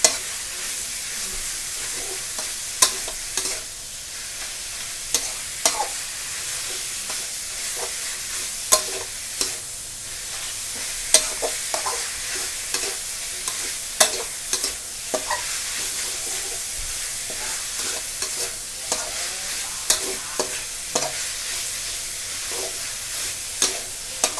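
Minced pork stir-frying in a hot pan over raised heat, a continuous loud sizzle broken by frequent spatula scrapes and knocks in an irregular rhythm throughout.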